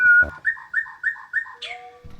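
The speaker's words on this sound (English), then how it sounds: "it's playing about 5 or 6 different sounds from the same bird, which gives it this kind of chorus effect" Layered recordings of a single bird species build a choir-like chorus: clear, close whistled two-note phrases repeat four times in a steady rhythm, then a higher sliding call ends the passage.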